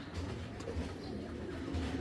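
Soft, low cooing from Pakistani high flyer pigeons, a few gentle coos close by over a faint steady background hum.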